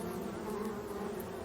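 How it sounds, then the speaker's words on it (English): Steady insect buzzing of bees swarming in the survival game Retreat to Enen, a continuous droning hum with no talk over it. "We got bees here."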